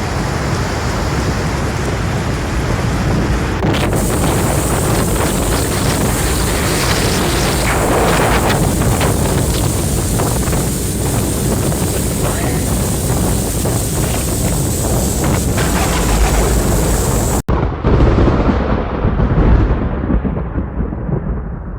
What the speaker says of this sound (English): Germany has been struck by fierce thunderstorms, sweeping through the nation with great force.